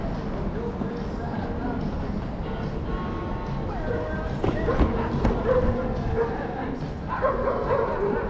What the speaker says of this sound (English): Sad Daisy, dog fight.